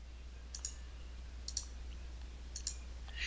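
Computer mouse clicking in an image measurement program, three evenly spaced double clicks about a second apart and a final click, crisp and close over a low steady hum.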